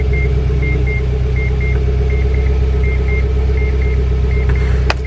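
A Mazda FD RX7 rotary engine fitted with a big single turbo runs loud and steady, close by, with a droning tone and a repeating electronic beep over it.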